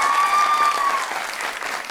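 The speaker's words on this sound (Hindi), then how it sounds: "अपने लिए तालियां बजाइए।" A TV talk show studio audience claps loudly and close, a dense, steady burst of applause that eases off slightly over two seconds.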